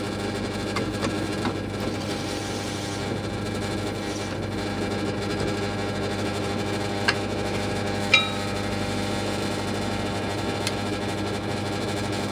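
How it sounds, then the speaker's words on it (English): A steady motor hum from a drill press runs throughout, with faint grinding as a pen mill squares the ends of wooden crochet hook blanks and a couple of sharp clicks near the end. "I just use my drill press and the pen mill."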